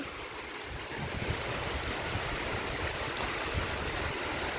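A dense, continuous roar of heavy rain pouring down, broadband and steady, with gusty wind rushing through it.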